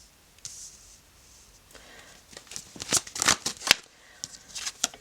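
Tarot cards shuffle by hand with soft riffling and crisp, snappy clicks as the deck is cut and bridged, starting quietly and building into several loud bursts, with no talking.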